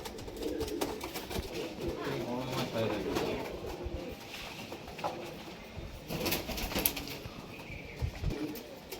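Pigeons kept for match flying at a house in Nabadwip coo and shuffle close by, their calls mixed with voices talking throughout and a few sharp handling noises.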